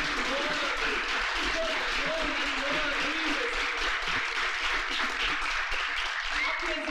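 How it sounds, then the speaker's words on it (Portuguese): An audience of guests and academicians rises to applaud a newly elected academician at a formal ceremony: sustained, dense clapping that holds at an even level throughout, with a voice speaking over it. "Todos, convidados e acadêmicos, se levantam e o aplaudem."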